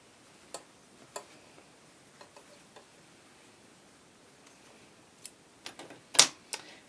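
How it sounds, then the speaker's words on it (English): Scissors clip threads between quilt binding strips in a series of small, sharp snips, sparse at first and then quicker and louder near the end, close against a quiet background. "So I'm going to clip those threads in between the binding strips."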